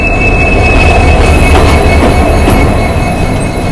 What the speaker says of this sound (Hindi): ये जो लोकोमोटिव है आगे हमारी ट्रेन में लगा हुआ था, अब जा रहा है पीछे अटैच होने के लिए।